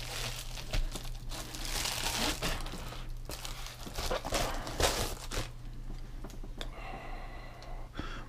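Packing tape is ripped and peeled off a package during an unboxing, with continuous close crinkling and tearing and a few sharper rips that ease off toward the end.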